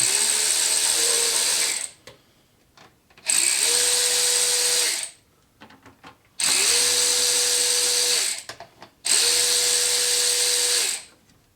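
Power tool with a 6mm socket loosening bolts on a BMW S55 engine from an M3/M4, in four loud whirring bursts of about two seconds each, separated by short quiet gaps with faint clicks.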